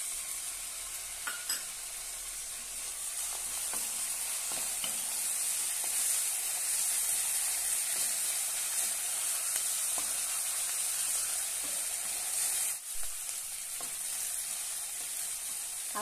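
Chopped onion and finely cut tomato with curry leaves sizzling in a pan, a steady close frying crackle with occasional stirring scrapes, no talking.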